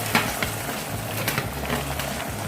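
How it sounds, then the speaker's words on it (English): Macaroni bolognese sauce simmers in a pan with a continuous close sizzle and bubbling, small pops and crackles scattered throughout, no talking. "Our sauce has simmered so well."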